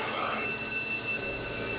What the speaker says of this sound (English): it did set off fire alarms